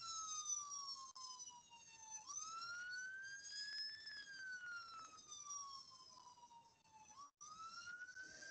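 An emergency vehicle siren wails continuously as the vehicle drives through swift water in Italy, its tone sweeping slowly up and down and holding steady and clear with little else around it.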